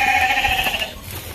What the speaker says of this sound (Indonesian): Kandang domba sobat